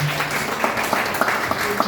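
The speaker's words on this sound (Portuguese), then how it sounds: "Você pode aplaudir o Senhor Jesus?" Church congregation applauding during a Portuguese-language sermon, a short, steady patter of many hands clapping at moderate loudness with occasional sharper claps.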